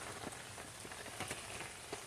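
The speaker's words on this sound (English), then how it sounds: "It's still raining. I don't think it's ever going to stop raining," Steady rain falls outside in the run-up to a hurricane, a continuous broadband patter with scattered louder drops, heard alone with no voices.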